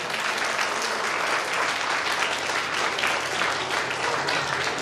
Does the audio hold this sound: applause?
yes